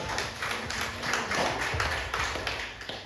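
A church congregation claps hands together during a worship service, a dense, steady wash of many overlapping claps with a loose rhythmic pulse, fairly loud and continuous throughout.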